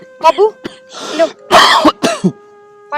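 A man coughs in a rough burst of several close, loud coughs and throat clearing, with a steady tonal hum running underneath.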